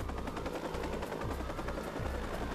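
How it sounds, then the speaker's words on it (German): A video game helicopter in Watch Dogs thumps its rotor rhythmically and steadily, fairly loud and close, with a low mechanical drone underneath. "die Helikopter werden es wahrscheinlich ziemlich schnell beenden"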